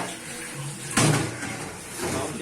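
Tap water runs into a sink while raw chicken is washed, a steady hiss with a louder splash near the middle and clattering of the chicken in the basin.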